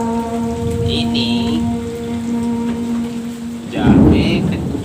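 Rain falls steadily in the rainy season while thunder rumbles, swelling into a loud close crash near the end, with sustained tones running beneath the downpour.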